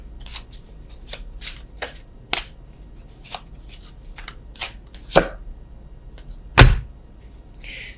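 A tarot deck is shuffled by hand in crisp, irregular riffles and snaps. Two sharper, louder card slaps stand out near the end against a quiet background.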